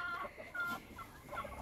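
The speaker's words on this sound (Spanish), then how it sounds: "dentro del espacio donde tengo las gallinas" Adult hens kept in a backyard pen cluck in brief, slightly tonal bursts, a few calls following one another in an uneven rhythm, quiet and fairly close, with no voices.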